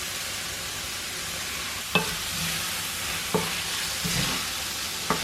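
Prawns and calamari sizzling steadily in a hot pan, a continuous broadband frying hiss with three brief sharp clatters of a utensil, no voices.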